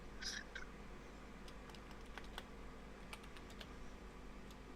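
Typing on a computer keyboard comes through faintly, scattered key clicks in short uneven bursts over a low steady background hum.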